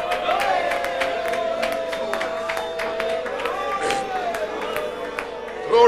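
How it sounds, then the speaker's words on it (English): A worship congregation shouts and cheers for joy in a dense, loud crowd roar, with scattered claps and whoops running throughout and swelling near the end. "I don't want to hear any clapping now. I just want to hear a shout."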